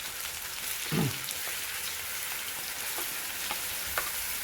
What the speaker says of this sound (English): I put my onions and my garlic first in the oil